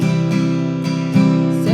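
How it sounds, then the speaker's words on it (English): Acoustic guitar strummed in a down-down-down-up-up pattern for a song, a few close, ringing chord strokes with bright brushes between them, alone without talk. "the second strumming pattern that you can use in the song is a little bit more complex"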